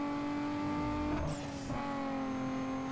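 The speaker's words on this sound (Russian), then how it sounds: "Да, изменились, кстати, звуки переключения передач." Car engine in the racing video game Need for Speed Underground 2, a steady tonal drone that briefly dips and changes pitch during a gear shift before settling back into a constant hum.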